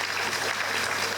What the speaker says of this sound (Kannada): ಈ ಕಲಾವಿದರಿಗೆ ಮತ್ತೊಂದು ಸರಿ ಜೋರಾದ ಚಪ್ಪಾಳೆ ಬರಬೇಕು ಅಂತ ಕೇಳ್ಕೊತೇನೆ